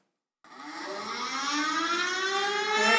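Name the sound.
outdoor warning siren sounding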